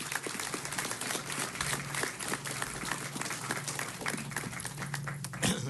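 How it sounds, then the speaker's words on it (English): An audience at a city council meeting claps for former secretary Mickey Kantor, a moderate, fairly even patter of hands with a few sharper individual claps standing out. "please give a warm round of applause for our former secretary, Mr. Mickey Kantor"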